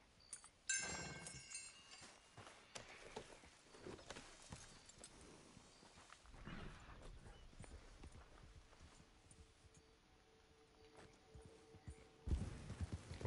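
Horse hooves clip-clop in the Red Dead Redemption 2 game world, faint and irregular steps at moderate distance, with occasional clinks and soft background noise.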